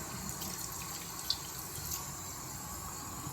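Water pours steadily from a waterfall-style faucet into a sink, a soft continuous splashing hiss with a faint drip or two.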